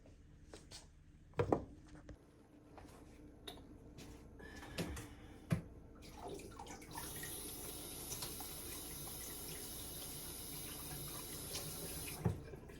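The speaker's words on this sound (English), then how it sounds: "Just ran a little bit of water through that." Water runs from a tap into a sink in a steady stream for several seconds, after a few clattering knocks and handling noises in a kitchen.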